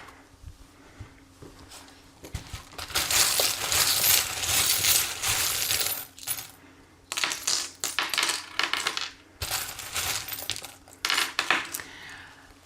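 Small tarot-reading charms are shaken, dropped and handled in bursts of bright metallic jingling and clinking, loud and close, separated by short quiet gaps.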